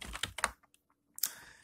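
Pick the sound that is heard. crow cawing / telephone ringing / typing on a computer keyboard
typing on a computer keyboard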